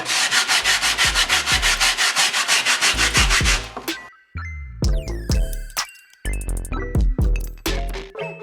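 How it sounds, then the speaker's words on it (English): Sandpaper rubbing by hand over a wooden skateboard deck that is being customized, with steady rapid back-and-forth scratching strokes, loud and close, followed by irregular scraping, knocks and clinks. "I am now gonna find some sandpaper, sand it down"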